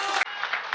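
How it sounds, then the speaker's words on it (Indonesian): Audience applause at a business talk, a short burst of dense clapping that briefly drops out before resuming at a similar level. "Ini tepuk tangan buat Milagros Bapak Ibu."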